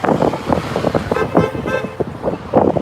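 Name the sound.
car horns honking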